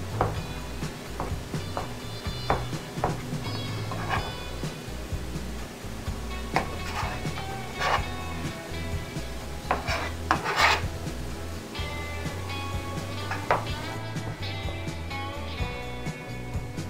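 Knife chopping onion, chile and surimi on a cutting board, a steady run of close rasping scrapes and taps that continues throughout with no one talking.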